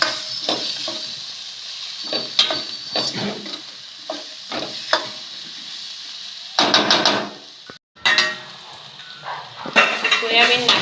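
Soybeans tossed into a pan of spiced masala with chilli, salt and turmeric, sizzling loudly while a spoon scrapes and stirs in repeated strokes, close up, with brief louder bursts of frying.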